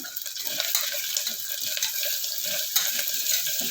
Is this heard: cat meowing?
no